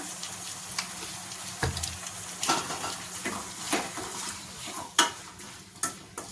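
Tomatoes cooking in a pan for curry while being stirred, a close sizzle broken by repeated spoon scrapes and sharp clinks against the pan at an irregular pace.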